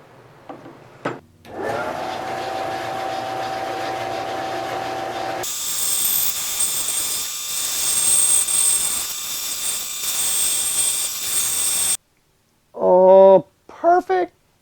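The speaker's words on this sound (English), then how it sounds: "Time to pull out the bandsaw." A bandsaw starts up with a tonal whine and hum, then shifts to a higher, brighter whirring drone as it cuts a wooden fermenting paddle for several seconds. It stops abruptly, followed by brief speech.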